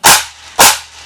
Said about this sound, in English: hear that big long rattle, is because the snare is very close to the skin, but it's not quite touching yet